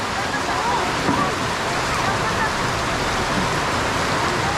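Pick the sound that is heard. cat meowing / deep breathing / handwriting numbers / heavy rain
heavy rain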